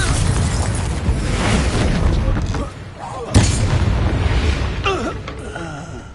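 Confringo fire spell explosions in the Hogwarts Legacy video game: a loud, sustained booming rumble that dips briefly, then a sharp blast followed by more rumbling.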